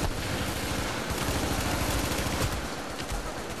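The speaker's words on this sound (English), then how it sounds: "He's getting shot at." Gunfire in The Division video game's Dark Zone, dense rapid bursts of shots blending into a loud, continuous crackling barrage with no pauses.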